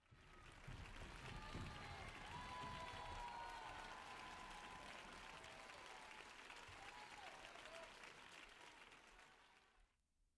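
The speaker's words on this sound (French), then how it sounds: "Regarde toute la foule applaudir Chihiro." A large crowd applauds Chihiro in a Spirited Away setting, dense clapping that swells in quickly, holds steady and loud for several seconds, then fades out at the end.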